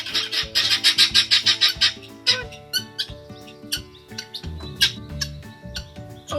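Garden birds chirp and tweet in quick repeated bursts, bright and close, over a steady musical background with no talking.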